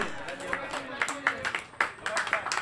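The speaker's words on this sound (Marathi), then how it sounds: "गुलामच्या गोलंदाजीसाठी मित्रांनो एकदा जोरदार टाळ्या होऊन जाऊ द्या" Applause for a bowler after a win in a local tennis-ball cricket tournament, the Sindhudurg Chashak 2025, heard as a short run of uneven claps mixed with an outdoor crowd and voices.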